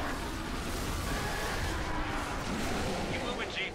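Enemy gunfire in a Halo 3 campaign battle, rapid shots blending into a dense, continuous roar of combat noise with blasts, with no speech.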